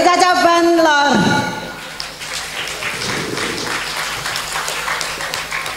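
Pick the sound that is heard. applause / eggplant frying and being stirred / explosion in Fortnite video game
applause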